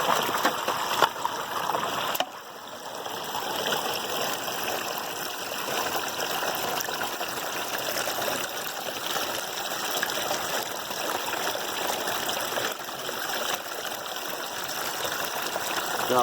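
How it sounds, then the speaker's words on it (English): Water runs and trickles steadily through a battery-powered gold-mining sluice for the whole stretch, a constant close splashing flow with a brief dip early on. "The water's just running really slow out the end here."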